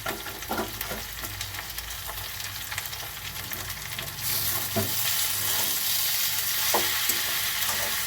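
Fish curry sizzles steadily in a pan while a spoon stirs and scrapes, with occasional knocks; the frying grows a little louder and hissier in the second half, no voices.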